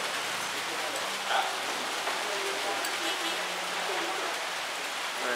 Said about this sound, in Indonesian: Hujan lagi ya?